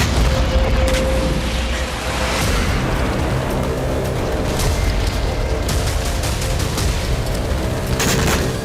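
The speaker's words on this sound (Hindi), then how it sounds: "ये हमास के ठिकानों पर प्रहार है।" Strikes on Hamas positions in Gaza bring a steady roar of heavy rumbling booms and blasts, dense and continuous, with sharp cracks standing out here and there.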